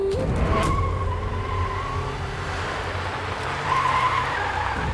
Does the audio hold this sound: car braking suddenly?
yes